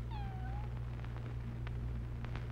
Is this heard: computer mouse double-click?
no